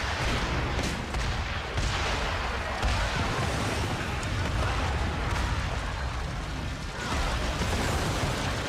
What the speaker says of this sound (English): Who let them have bombs?